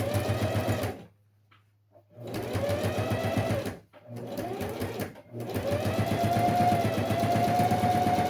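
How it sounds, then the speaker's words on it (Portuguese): Sewing machine running a topstitch seam on a homemade school pencil case, loud and close, with three bursts of steady rapid stitching separated by short pauses; no talking. "vou fazer uma costurinha aqui, não muito na beiradinha, essa costura chamada costura de pesponto"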